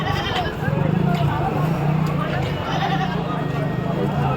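At a busy livestock market in Jhikargacha, Jessore, many goats bleat over and over, loud and close, over a constant babble of crowd voices.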